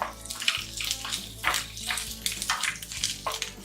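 Cut okra sizzles and crackles in hot oil in a pan while being fried for a South Indian buttermilk curry. It makes a dense, steady hiss with bursts of spitting, close and loud, with no talk.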